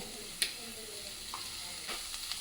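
Onion, ginger, green chilli and a piece of cinnamon sizzle quietly in hot oil for cauliflower curry, a soft steady crackle with a brief clink of a utensil and faint stirring.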